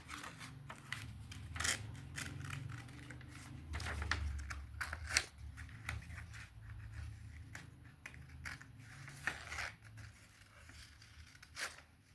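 Scissors snip around the edges of coloured paper cutouts of Kuromi characters for stick puppets, giving soft, irregular snips and rustling paper close by, with no talk.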